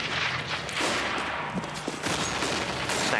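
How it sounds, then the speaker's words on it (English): A burst of gunfire, including an AWP sniper rifle, in a Counter-Strike Nuke match, dense overlapping shots in a fast fusillade, loud and close with no talk. "Snax opens up with the AWP frag onto Forrest."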